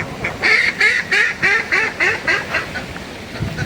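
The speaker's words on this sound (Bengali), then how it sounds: "আর ওই একটা হাঁসে পাক পাক করলে সবগুলি পাক পাক করে ওঠে।" Ducks quack in a rapid series of about eight loud, nasal calls close by, then trail off into quieter rural background noise.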